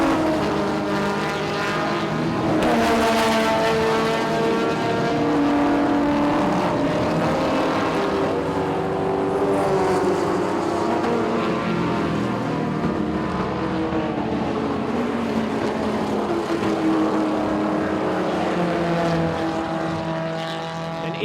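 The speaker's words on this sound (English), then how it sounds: "Let's have a listen to this field and the variety of engines going across the top." Heritage touring cars race across the top of Mount Panorama at Bathurst, a loud continuous blend of engines rising and falling in pitch as the varied field passes, with overlapping revs and gear changes throughout.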